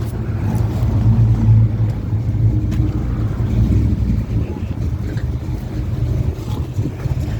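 A cammed car engine idles at an outdoor car show with a loping, uneven rumble, steady and close, mixed with wind noise and faint crowd murmur.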